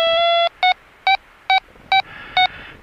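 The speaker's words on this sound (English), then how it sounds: "Got the beeps up very loud, so wouldn't normally have it that loud." Loud vario beeps from a FrSKY TW GR8 glider receiver: a held tone, then five short evenly spaced electronic pips, crisp and close in near silence.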